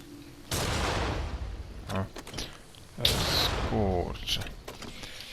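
Gunshots in the video game Nioh 2, sharp loud blasts with ringing tails, two main shots and smaller bursts, mixed with someone talking over the gameplay.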